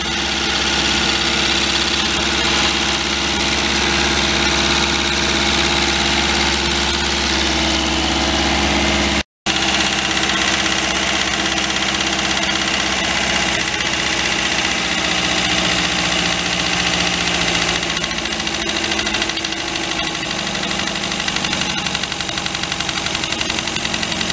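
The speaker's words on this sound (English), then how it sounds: "let's start working those carbs back down, bring the idle back down, see if we can get it to play with the air fuel mix" A 1950s MG TD roadster engine, a barn find parked for decades, idles steadily and loudly with a continuous low rumble and slight knock while its carburetors are adjusted, with a brief dropout partway through and no talk.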